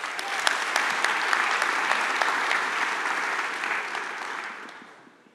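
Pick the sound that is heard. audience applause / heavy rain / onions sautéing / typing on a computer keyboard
audience applause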